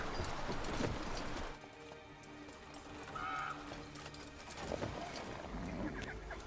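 Horse hooves clip-clop in The Witcher 3 game, an irregular mid-level stepping rhythm over a busy ambient game soundscape with water and distant background sounds.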